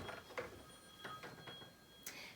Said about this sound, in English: I think we have a caller on the telephone.